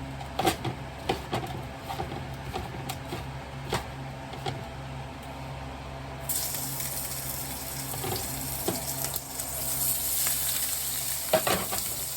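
Seasoned shrimp fry in oil over moderately high heat, a continuous close sizzle that swells louder partway through, with scattered clicks and stirring scrapes.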